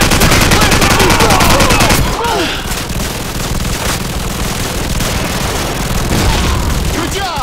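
Loud, dense automatic gunfire from Call of Duty 4: Modern Warfare, with rapid rattling bursts and overlapping shots filling the whole stretch, shouted voices and booms mixed underneath.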